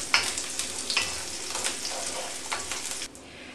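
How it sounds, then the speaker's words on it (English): Spices frying in a hot pan over medium-low heat, a steady crackling sizzle with sharper bursts as the mixture is stirred, close and moderately loud, easing off near the end. "Just be careful, it will start to sizzle"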